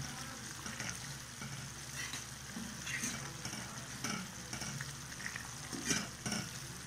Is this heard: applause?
no